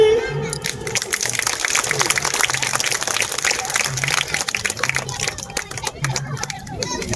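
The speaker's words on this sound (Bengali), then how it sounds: "জোরে হাততালি" An audience at a ventriloquism show bursts into sustained clapping, a dense, lively round of applause with some crowd chatter mixed in, fading slightly toward the end.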